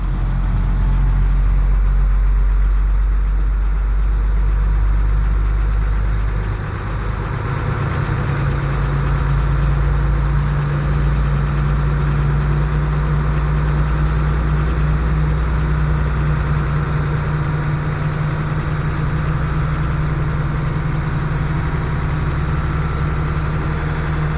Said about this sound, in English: now this one's going into high idle